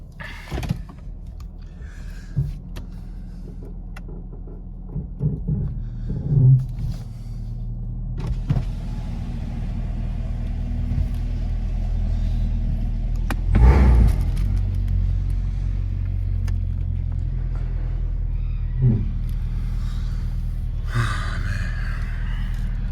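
A Chevrolet Camaro ZL1 1LE engine idles while warming up, with a steady, deep rumble throughout, a few soft knocks and clicks nearby and no one speaking.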